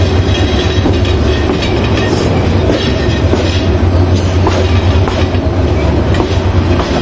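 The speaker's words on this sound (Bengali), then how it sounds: "ভৈরবের পর থেকে রেল ট্র্যাকের যে একটা সাউন্ড" The Kishorganj Express rolls along the rail track past Bhairab with a loud, continuous rumble and rhythmic clickety-clack of wheels over rail joints, heard from inside the train with no talk.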